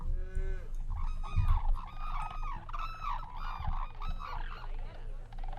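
Several drawn-out buffalo lowing calls in a video game, moaning and overlapping, with a low rumbling bed beneath; no talking.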